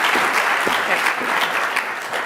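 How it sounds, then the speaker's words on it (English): Audience applause and cheering at a celebration of life gathering, steady and fairly loud throughout, a dense wash of clapping with scattered voices mixed in. "Let's cheer for Christina."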